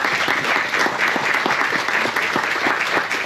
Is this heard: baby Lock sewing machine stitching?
no